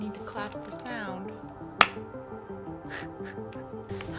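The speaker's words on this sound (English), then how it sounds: "I need to clap for sound." One sharp hand clap made for sound sync, a single loud crack standing out between stretches of someone talking close to the mic.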